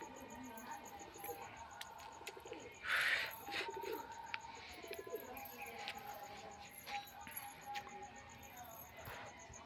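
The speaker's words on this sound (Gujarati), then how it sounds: "ને આપણા આજે ઉપર કબૂતર બેઠા હે" Soft pigeon coos repeat nearby against a quiet background, with a louder flutter or rustle partway through and a few faint chirps.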